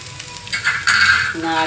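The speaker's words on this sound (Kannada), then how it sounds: "ನಾನೊಂದು ಚಿಕ್ಕ ಪ್ಯಾನಲ್ಲಿ ಹುರಿತಾ ಇದ್ದೀನಿ" Ingredients dry-roasting in a small pan, a short burst of sizzling with metallic scraping and clinks of a utensil against the pan, close and fairly loud.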